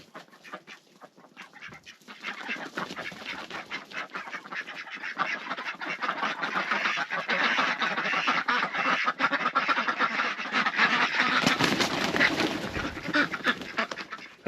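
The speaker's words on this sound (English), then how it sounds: "Nothing but the best for my ducks." Several ducks quack repeatedly and overlap, growing busier and louder after a quieter start, with no talking.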